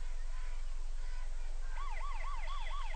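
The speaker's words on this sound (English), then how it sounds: "Oh, our siren goes off again." A siren goes off at a high school football game, a wailing tone that starts partway in and swoops up and down repeatedly, loud over a constant low hum.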